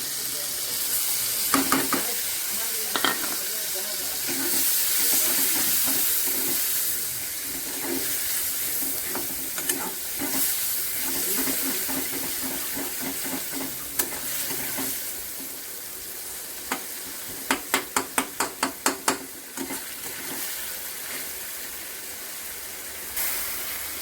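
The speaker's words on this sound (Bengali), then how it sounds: "এবার সব মশলাগুলো দিয়ে দেবো। পেঁয়াজ বাটা লঙ্কা বাটা জিরে বাটা।" Onion, chili and cumin paste frying in oil for a Bengali rohu fish curry, a steady low sizzle with scattered clinks and a rapid burst of spoon taps near the end.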